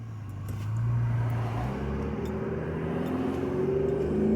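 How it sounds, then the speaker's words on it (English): A car with a rotary engine revs and accelerates, its engine tone climbing steadily in pitch as it pulls away, fairly close with no talking. "you've got a damn rotary engine"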